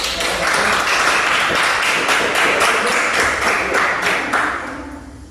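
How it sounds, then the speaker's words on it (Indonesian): Students applauding in a classroom after a group presentation, a burst of brisk clapping from a small group that holds steady and then fades toward the end. "terus beri tepuk tangan, tepuk tangan dulu."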